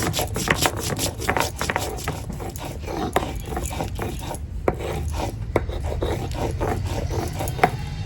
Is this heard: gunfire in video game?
no